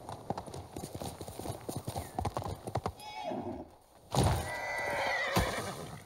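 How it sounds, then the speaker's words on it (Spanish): Hoofbeats of a horse in the samurai game Ghost of Tsushima clop in a steady rapid rhythm, joined by a loud whinny near the end, with some game sounds underneath. "El caballo, el pobre ya..."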